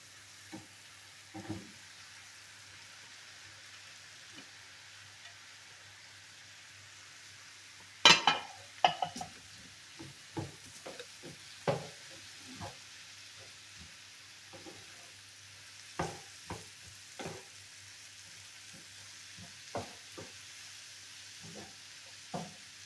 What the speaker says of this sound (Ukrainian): І цибулька підсмажується разом, разом з цими печерицями.